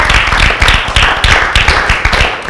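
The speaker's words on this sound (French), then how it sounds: "On acclame très très très très fort!" Loud, dense clapping from a crowd of children, sustained and energetic throughout with little pause, close and filling the space.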